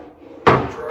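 A hotel closet door in an ocean-view suite at the Hyatt Ziva Cap Cana bumps open or shut with a single sharp knock about halfway through, following a quiet room tone.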